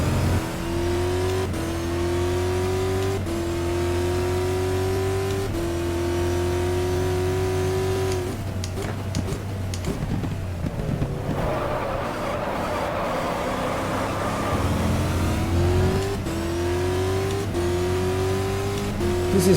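Proton Porsche race car from the WEC 2015 field at Spa-Francorchamps in the GTR2 racing game, its engine droning loud and steady with rising gear pulls, a brief lift and rev burble midway, then climbing again.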